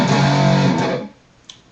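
A riff played at full speed on a distorted electric guitar: a dense, loud burst of chugging chords that cuts off after about a second, followed by a faint pick scrape.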